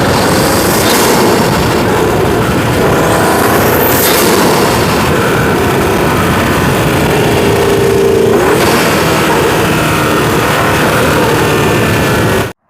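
Audi RS6 Performance fitted with an Eventuri intake revs hard, a loud, dense, roaring engine and intake sound with rising pitch sweeps, sustained throughout and cutting off abruptly at the end, with no talking.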